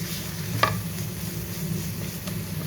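Spoon stirring red chilli powder and chilli flakes into a samosa filling, a soft continuous scraping over a low kitchen hum with a couple of brief clinks, close and fairly quiet.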